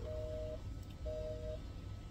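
Telephone dialing while placing a call to a cinema, two steady tones about half a second each with a pause between, quiet over a low hum.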